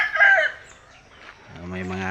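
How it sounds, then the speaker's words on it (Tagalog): Pet chickens kept on a banana farm crow and cluck, the calls starting brief and scratchy, then a sustained, strongly pitched crow rising in the final second, fairly close and loud. "Yung mga alaga nating manok"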